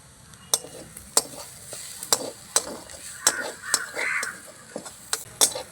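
A spoon scrapes and taps in a pan as green chili powder is stirred into a curry cooking on the stove. The scraping and clinking come in a loose, irregular rhythm over a soft sizzle, and crows caw faintly in the background.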